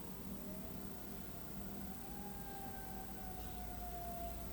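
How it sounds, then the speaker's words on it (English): Emergency vehicle sirens wailing faintly in the distance, a thin rising and falling tone drawn out beneath a steady hiss of background noise. "Sirens going down in the background"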